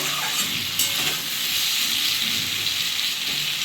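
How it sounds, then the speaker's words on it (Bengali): Radish frying in a pan gives a steady, close sizzle and hiss that runs unbroken through the whole short stretch, with no voices over it. "আমার মুলোটা ভাজা হয়ে গেছে"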